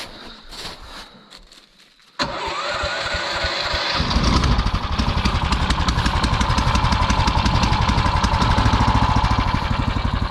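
A motorized tow unit's small engine sputters, catches abruptly and settles into a loud, steady, rapid idle as it warms up, with faint rustling before it fires.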